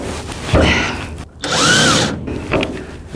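An impact driver working on a 27,500 lb crane truck whirs and rattles in two short, loud bursts separated by a brief pause.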